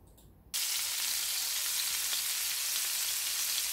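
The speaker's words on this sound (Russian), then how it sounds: "Мы решили пожарить рыбку и поужинать." Fish frying in a pan: a loud, steady, close sizzle that starts abruptly after a short quiet moment and keeps going without a break.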